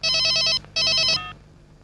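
A telephone bell rings in two loud, close bursts, each a rapid trilled ring, with a short gap between them and a brief tail at the end, no voices heard.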